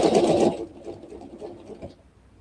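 Sewing machine stitching a quilting line along a ruler template on a Baptist Fan quilt panel, a loud rapid whirring burst at the start that winds down into a few faint mechanical clicks before fading out.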